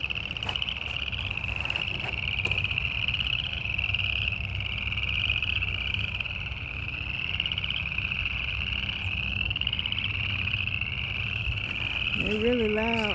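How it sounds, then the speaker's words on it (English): Frogs calling in a loud, continuous chorus beside a walking trail, an unbroken rhythmic croaking and trilling, with a brief voice near the end rising over it. "We're stopping to investigate the sound of the frogs."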